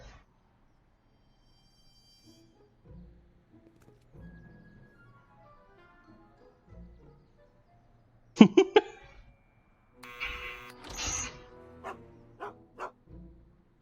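Einstein the dog in the Back to the Future video game gives a quick burst of sharp barks after sparse game voices and music, followed by further voiced lines over a louder stretch.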